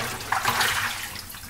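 Tap water runs steadily over boiled pork belly as it is rinsed in a kitchen sink, a close, hissing splash with a brief louder gush near the start.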